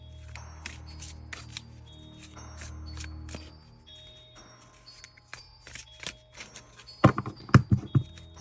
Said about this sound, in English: I shuffle them, split them in half